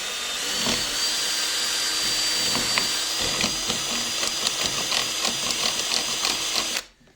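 A power drill whines steadily at close range for several seconds, with rattling and ticking as it bites into a tilt and turn window frame, drilling a drainage hole, then stops abruptly.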